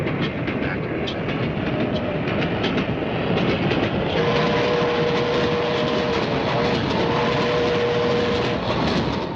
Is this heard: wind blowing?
no